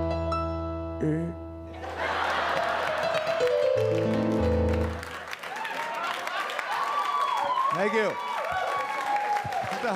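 Applause and cheering from a comedy club crowd at a live stand-up show, swelling after a musical sting and continuing steadily beneath a comedian's voice.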